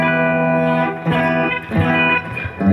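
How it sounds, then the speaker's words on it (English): Clean-toned Dean Metal Meister Explorer-style electric guitar played through a Bugera 333XL valve amp, ringing sustained chords with a couple of fresh strums mid-phrase, close and fairly loud with no talking. "now this is a Dean Metal Meister sort of Explorer, yeah? Really nice clean tones"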